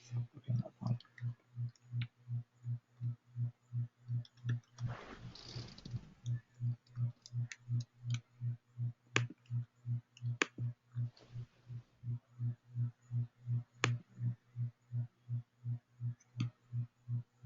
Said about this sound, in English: I'm clicking on save.